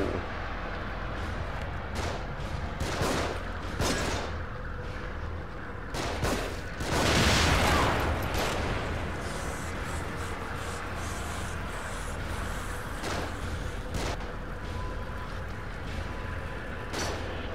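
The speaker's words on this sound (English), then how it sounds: "Get to cover. They're shooting from above." Gunfire from enemies positioned above in The Evil Within, scattered sharp shots and bursts over a constant rumbling background, with one heavier blast in the middle.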